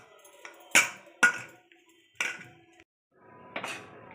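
A metal kadai is set down on a kitchen stove while potato, semolina and sesame pakoras are being made, giving a handful of sharp, close metallic clanks and clinks spaced irregularly with quiet gaps between them.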